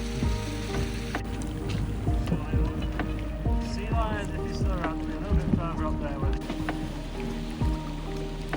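A zodiac inflatable boat's outboard motor drones steadily close by among Patagonian glaciers and fjords, with water splashing and wind buffeting the microphone, while people talk now and then.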